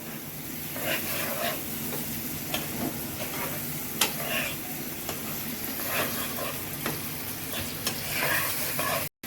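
Spices frying in leftover fish-frying oil, with a steady sizzle and repeated stirring scrapes in a pan, close and moderately loud, no talking.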